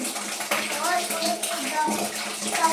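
Clothes being hand-washed with soap and water, with steady sloshing and splashing throughout and a voice talking over it.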